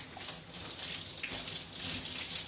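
Warm water runs steadily from a sink tap while wetting twisted natural hair on wash day, a close, continuous splashing hiss with no voices.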